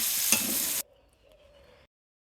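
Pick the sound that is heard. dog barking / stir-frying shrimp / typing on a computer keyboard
stir-frying shrimp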